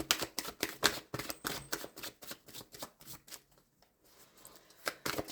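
Tarot cards are shuffled for a card draw in a run of quick, dry riffling bursts and soft papery flicks, close and fairly quiet, with a brief pause before a final shuffle.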